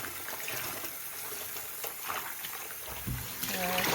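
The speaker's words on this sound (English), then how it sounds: "continue to rinse it until your water runs clear" Tap water runs steadily while acid-dyed yarn is rinsed in a sink, a continuous splashing gush with a brief clink near the end.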